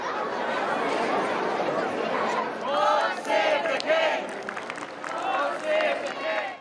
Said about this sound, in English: Royal supporters, screened and bussed in, cheer his arrival to the royal residence.